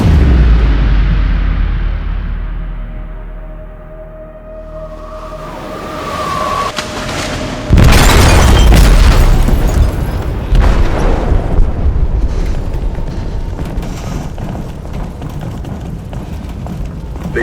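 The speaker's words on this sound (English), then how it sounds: "They detonated an explosive in the hold." A large explosion detonates in a ship's hold in Detroit: Become Human, a sudden heavy boom followed by a long roaring, rumbling aftermath that stays loud, with no voices over it.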